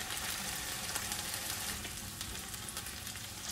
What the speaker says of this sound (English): take your spatula, whatever you got right here, right now, I'm saying, and smash those onions in